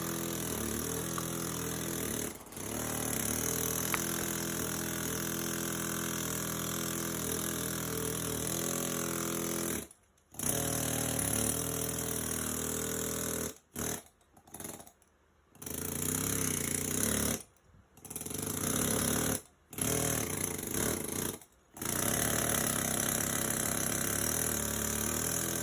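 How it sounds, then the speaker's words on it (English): A loud Snap-on PN3050B jackhammer drones steadily, with several abrupt cutoffs and restarts toward the end, running in bursts. "this is the best jackhammer I've ever ran"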